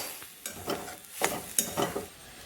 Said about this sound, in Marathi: आणखी आपण दोन मिनटं असंच तूप टाकून परतून घेणार आहोत